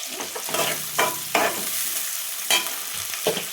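Chana dal and urad dal frying in hot oil in a morning upma pan, a steady sizzle broken by several sharp scraping stirs of a spoon across the pan.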